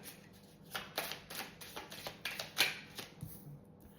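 Tarot cards are shuffled and drawn at close range: a run of crisp papery flicks and slaps with uneven rhythm, one sharper snap near the end, and no talk over it.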